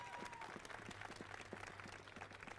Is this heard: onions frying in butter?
no